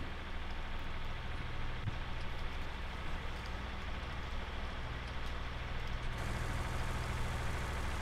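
Tractor engine in Farming Simulator 19, on a Canadian farm during a wheat harvest, a steady low drone that runs unbroken throughout at moderate level, with a faint hiss over it.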